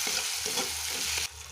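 Chilli and cumin paste sizzles in a pan with melted tomato while a spoon stirs it, a steady close frying hiss broken by soft scraping strokes, which stops abruptly near the end.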